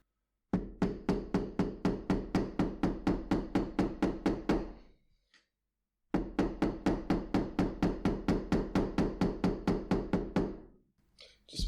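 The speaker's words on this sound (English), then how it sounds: "And again with the hammer." A smooth round-face hammer taps a leather cardholder in two long runs of steady, evenly spaced knocks. The strikes are close and crisp, with a brief pause between the runs.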